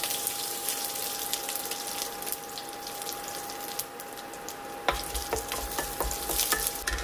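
Curry leaves and dried red chillies dropped into hot coconut oil with popped mustard seeds, crackling and sizzling up close, with sharper spitting pops and stirring after the first few seconds, no talking.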